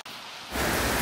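Rain falling outdoors near a beach lot, a dense hiss that surges loud after a quieter opening moment.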